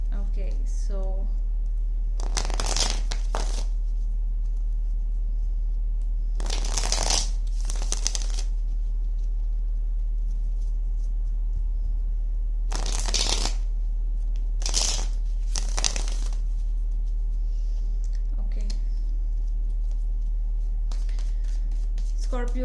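Tarot cards are shuffled in several short riffling bursts, close and crisp, separated by pauses of quiet room hum, with a person talking lightly in between.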